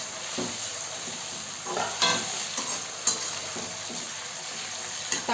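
Chopped tomatoes hit a pan of already fried onions, with a constant close sizzle broken by the scrape and clatter of stirring, for a masala vada curry with okra.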